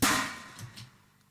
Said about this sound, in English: there's also this third snare, which sounds like this